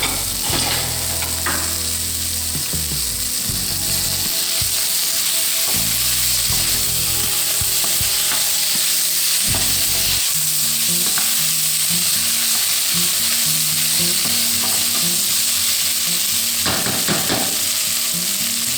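Sliced peppers and translucent onions fry in a hot pan, a steady loud sizzle running throughout with scraping stir strokes and clatter from a utensil.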